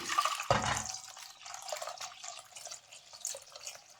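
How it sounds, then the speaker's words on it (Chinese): Water poured into a clay pot holding poria cake ingredients, a steady splashing stream that starts abruptly and keeps running close by, with no talk over it. "把所有的食材倒入锅中， 倒入水"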